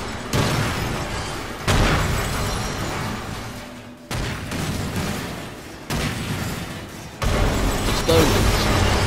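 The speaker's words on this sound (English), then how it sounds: "Explosions." Explosions in the Deadpool video game, a series of heavy booming blasts, each abrupt onset followed by a decaying rumble, about five in quick succession.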